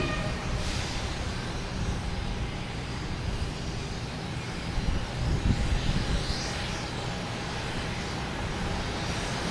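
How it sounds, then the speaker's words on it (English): An American Airlines A321neo taxiing at Boston Logan Airport toward runway 22 right, its engine noise a steady moderate rumble with a slight swell in the middle, no talking. "We have American Airlines and A321neo heading up to 22 right."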